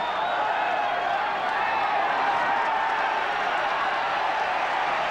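A 1987 rugby league stadium crowd roars after a penalty, a broad sustained wall of cheering and shouting that stays steady and loud without pause.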